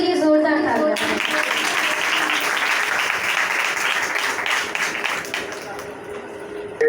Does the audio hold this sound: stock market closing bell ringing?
no